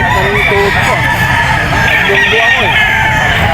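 Bull stag gamefowl rooster with yellow legs crowing at a pet market, two loud drawn-out crows close by over a busy background of other fowl clucking and crowing.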